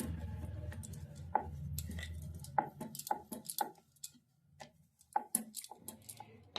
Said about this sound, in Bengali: আটা দিয়েই আমি বেলছি